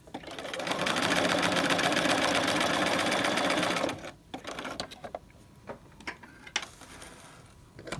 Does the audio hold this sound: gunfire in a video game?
no